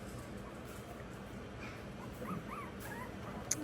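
Three-week-old Schnauzer puppies whimper and squeak softly in a litter, faint high thin cries scattered through the second half over low background noise.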